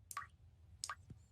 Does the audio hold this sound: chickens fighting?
no